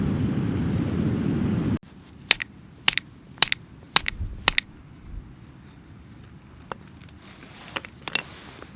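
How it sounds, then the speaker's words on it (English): Sharp hammer blows split a fossil-bearing rock in a quick series of about six hits, then scattered lighter knocks against quiet outdoor background on a beach. "So we're just splitting this rock"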